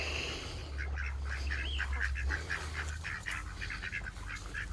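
Ducks quacking repeatedly in a rapid, busy chatter over a low steady hum, fairly close and clear, with no talking.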